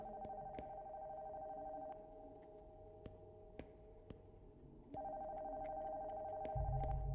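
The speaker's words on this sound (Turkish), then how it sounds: "neyin telefonu çabuk?" Telephone ringing inside a horror video game, with repeated electronic ring bursts that stop and then resume, heard clearly over a quiet ambient background.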